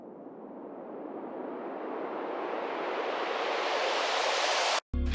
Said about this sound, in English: So to bring it to the drop and have a nice transition, I put this riser.